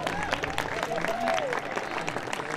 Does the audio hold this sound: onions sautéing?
no